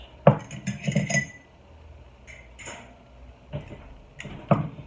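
Glass canning jars clink and rattle against each other and against metal as a couple are pulled out for hot-pack canning stew meat, giving several sharp close knocks in short bursts with quiet gaps between.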